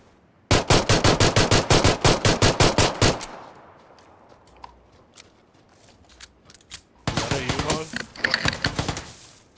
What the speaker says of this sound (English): That's me shooting at him